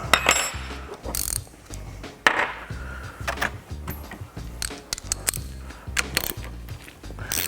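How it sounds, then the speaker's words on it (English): An 11mm socket wrench ratchets and clicks while loosening the piston bolt of an XFUSION Vector HLR shock damper clamped in a vise, with repeated metallic clicks and clunks close up. "Use your 11mm socket to free the piston bolt and piston assembly"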